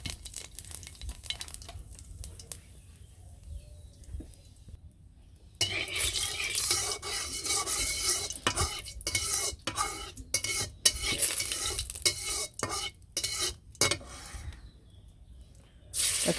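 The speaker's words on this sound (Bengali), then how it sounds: "কড়াইয়ের মধ্যে এখন যে তেলের মধ্যে জিরে সম্বার দিয়ে দিলাম।" Cumin seeds sizzling in hot oil in a wok, a quieter stretch at first, then loud, continuous frying hiss with rough scraping stirs and occasional clinks, close up and with no one talking.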